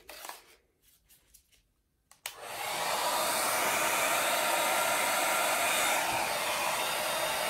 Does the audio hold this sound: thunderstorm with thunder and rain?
no